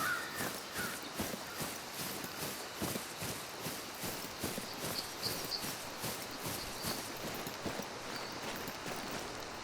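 Crows or ravens caw in a forest in the hunting game Call of the Wild: The Angler, scattered and fairly distant over a steady, rhythmic crunch of footsteps that carries through the whole stretch.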